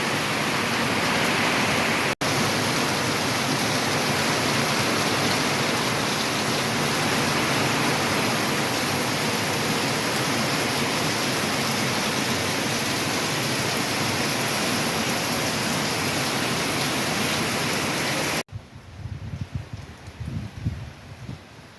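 Heavy rain pours down on the coast during Hurricane Idalia, a loud, dense, unbroken roar of rainfall close by that cuts off abruptly near the end, leaving quieter low rumbling.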